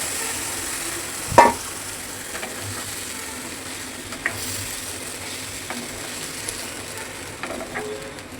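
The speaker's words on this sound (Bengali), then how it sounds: "এবার আমি সুন্দর করে এটাকে জাল করে নেব।" A fish head fries in a pan with local mustard paste, giving a faint, steady sizzle throughout with a sharp clatter of utensil against pan early on and a few soft stirring knocks later.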